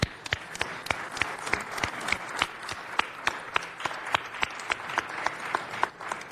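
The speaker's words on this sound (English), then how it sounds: "Let's give the young people a round of applause" Audience at a city council meeting applauds a group of young people, a steady mix of many hands with some sharp, regular claps standing out, moderately loud and continuous throughout.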